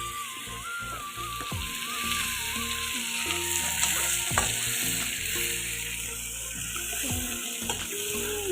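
Meat dry-frying with onion and garlic in a pan gives a steady close sizzle with stirring scrapes throughout, while a faint tonal melody plays in the background.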